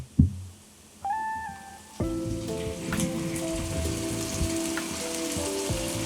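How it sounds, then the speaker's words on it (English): Tomato paste roasting with vegetables in a soup pot makes a steady frying sizzle and crackle, with a knock at the start and tonal background sounds layered over it. "we want to make sure that we roast this tomato paste into all of the vegetables"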